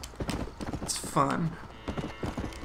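Horse hooves clip-clop at night in the Red Dead Redemption video game, a steady rhythmic clatter under casual conversation and laughter between players.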